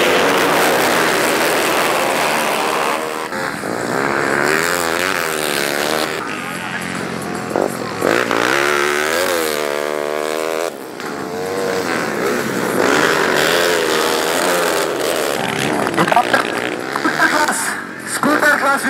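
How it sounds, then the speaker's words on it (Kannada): Dirt-track motorcycle and scooter rally with bikes revving hard and wheeling, engines rising and falling continuously, mixed with crowd noise and voices throughout. "ಪೈಪೋಟಿಯಿಂದ ಗಾಡಿ ಓಡಿಸ್ತಾ ಇದ್ದಾರೆ, ಎಲ್ಲ ವೀಲಿಂಗ್ ಮಾಡಿ ಗಾಡಿ ಓಡಿಸ್ತಾ ಇದ್ದಾರೆ"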